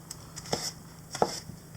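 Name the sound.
chopping portobello mushroom with a knife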